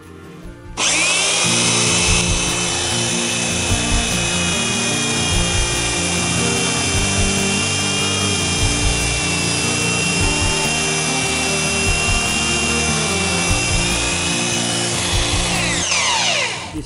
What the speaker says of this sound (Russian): Вот я уже тут начал маленько точить.